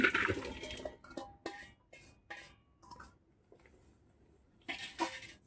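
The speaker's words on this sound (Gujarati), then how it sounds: "હવે આપણે આ તપેલામાં" Raw mango pieces drop into a metal cooking pot, giving a quiet scatter of clinks and knocks: a busy burst at the start, sparse taps through the middle and a final clatter near the end.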